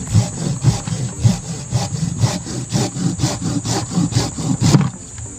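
Rhythmic back-and-forth strokes of a hand saw cutting through wet wood, about ten steady strokes, close and clear with no talking.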